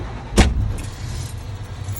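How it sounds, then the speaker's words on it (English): A truck key goes into the ignition with one short metallic jangle of keys. Low engine rumble runs underneath, close by inside the cab. "key in the ignition"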